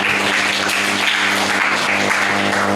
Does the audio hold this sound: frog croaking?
no